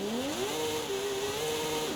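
A turbocharged drift car in the Forza Horizon 5 racing game, its engine climbing quickly and then holding high in the revs with a sustained, buzzing whine over a steady bed of tyre and road noise.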